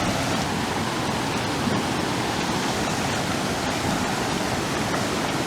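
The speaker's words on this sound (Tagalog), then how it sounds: "Bawal sigurong liguan to dahil sa sobrang lakas ng agos dito sa lalim." The strong current of the Dupinga River in Nueva Ecija rushes continuously, a dense, unbroken roar of water close by with no voices over it.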